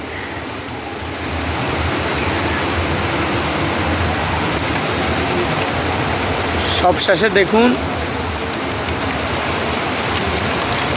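Steady rain pours down over Dagonbhuiyan Zero Point in Bangladesh, heard from above a dance parlour as a continuous wash of falling water, with someone speaking briefly partway through and a few louder knocks near the middle.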